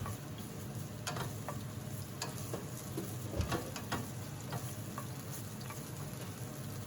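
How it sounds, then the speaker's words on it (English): Minced garlic stir-fries in vegetable oil over high heat, a steady close sizzle and crackle with occasional spatula taps and scrapes against the pan. "add in 1 teaspoon of minced garlic and stir fry for 1 minute"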